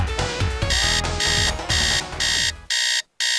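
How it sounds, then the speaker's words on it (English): An alarm clock rings in loud, repeated bursts of high electronic beeping, with brief gaps between them and a short silence near the end. "And that alarm clock! I can't even turn it off!"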